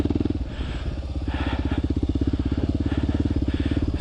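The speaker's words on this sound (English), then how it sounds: "her second time riding their brand new KLX 140L" Kawasaki KLX 140L dirt bike running on a practice track, its small engine putting out a steady, close, rapid putter with slight throttle swells throughout, no voices over it.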